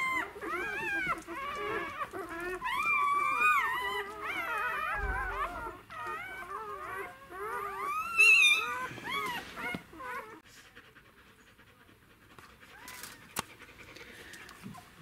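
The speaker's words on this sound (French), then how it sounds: "Il y a un petit tas de chiots entre les pattes de Féline." Newborn puppies squeal and whimper in high, wavering cries, with panting from the mother dog between them. The cries fade to quiet near the end.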